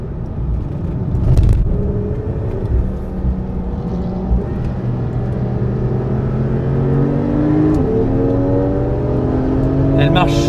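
A race car accelerates hard around a club track session, engine pitch sweeping upward through several gears with other cars nearby, loud and continuous, with voices talking over it.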